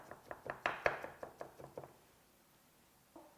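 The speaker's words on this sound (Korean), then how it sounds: "그다음에 파마늘 다져 주시고요" Green onion and garlic minced with a knife on a cutting board: a quick run of about a dozen sharp chopping knocks, loud and close, that fades out, followed by a short pause and one last tap.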